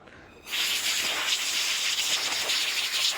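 Aerosol brake cleaner sprayed onto a diesel engine's glow plug thread: after a short quiet start, a loud, steady, close hiss runs unbroken to the end.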